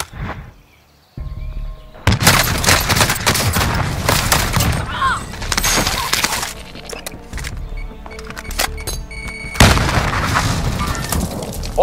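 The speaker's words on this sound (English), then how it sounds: "Be advised, friendly precision airstrike." Call of Duty Warzone gameplay with a precision airstrike, heavy explosions and dense gunfire booms crashing in loud bursts one after another, with players talking over the chaos.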